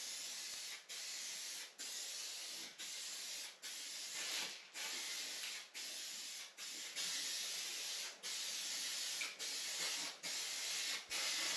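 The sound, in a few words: spray painting a car bumper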